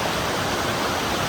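A spring waterfall in Michigan's Upper Peninsula rushes with a steady, dense broadband roar, close and continuous throughout the short stretch, with no voices present.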